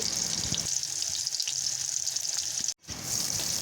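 Onions hit hot oil in a wok after fish has been fried, a close, loud crackling sizzle that carries on steadily and briefly cuts out near the end.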